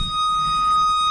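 A 1995 Ferrari F355 Berlinetta gives off a steady electronic beep, a sustained high tone held unbroken throughout with a low rumble underneath and no voices.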